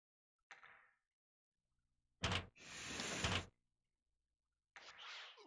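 In the N64 game Shadowgate 64, a few separate bursts of rustling and door noise come from a cell door, each short, sharp and fairly close against silence.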